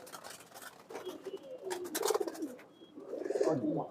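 Tournament racing pigeons coo softly in repeated throaty, rolling calls, several birds close together at low volume, with faint chirps mixed in.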